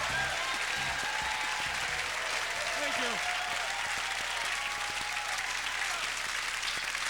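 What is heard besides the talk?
comedy audience applauding a comedian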